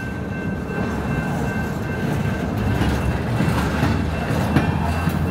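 A train pulls out of a rail yard toward Plant City with a loud, continuous rumble and rolling wheel clatter that builds slightly, with a faint high whine running through it.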